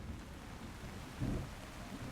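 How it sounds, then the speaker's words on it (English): Heavy rain pouring down in an audio drama scene, a dense, steady wash of downpour with a low rumble swelling briefly in the middle, continuous and without any voices. "The rain pours down heavily"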